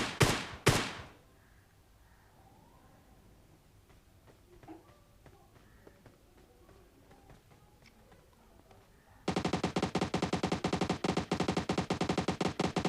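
Automatic gunfire in the mobile battle royale game BGMI: two sharp shots at the start, a quiet stretch with faint game sounds, then a loud sustained burst of rapid machine-gun fire to the end, with no talk.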